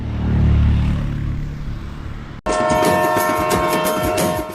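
The Ooty toy train approaches: a loud, low rumbling roar gives way abruptly to a sustained, tonal horn-like blare over rattling clatter, close and powerful.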